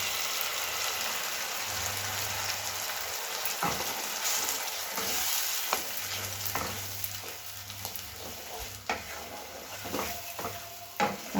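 Boiled spinach and chillies fry and sizzle steadily in a pan for palak paneer, with scattered sharp clicks and scrapes as the mix is stirred; no one speaks.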